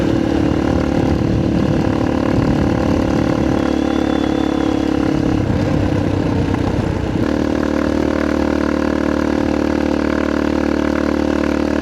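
A motorcycle engine runs on a winding mountain road between Mangatarem, Pangasinan and Santa Cruz, Zambales, a loud steady drone with wind rush that shifts in pitch partway through.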